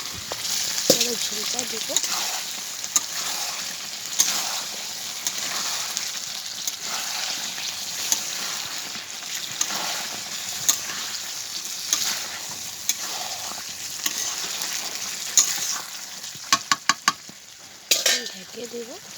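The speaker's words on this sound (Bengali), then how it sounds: "এই যে কষানো হচ্ছে, আলুটা দিয়ে দিলাম" Potatoes sautéing in a pan, a steady close sizzle and crackle with scraping stirs running throughout, while a person speaks briefly over the cooking.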